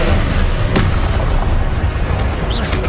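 A Confringo fire spell bursts in the video game Hogwarts Legacy, a loud close boom within a dense, continuous rumble of combat effects and magic crackles.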